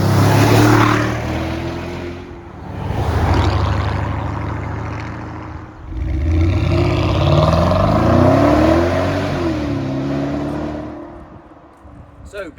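A Porsche Cayenne Turbo fitted with big turbos revs loudly and close by in several rising and falling pulls across its rev range, with a brief dip between bursts.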